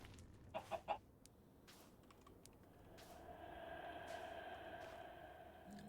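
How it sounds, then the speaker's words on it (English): Chicken clucking in the video game Minecraft: three quick, faint clucks near the start, followed by a low, steady background hum. "That's the first new chicken I've seen ever in my actual Minecraft."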